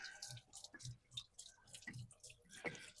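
Water drains from a heater hose on a 2010 Chevrolet Silverado truck into a catch pan, making faint, irregular dripping and splattering drops close by, with no talking.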